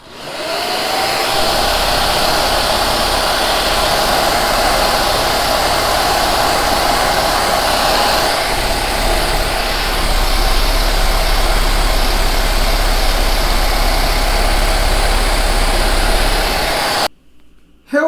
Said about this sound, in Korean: 그래서 제가 드라이기로 한번 건조시켜 보겠습니다.